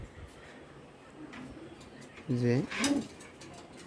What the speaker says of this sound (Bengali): এই জোড়া অনেক সুন্দর কবুতর, অনেক ডাকে সুন্দর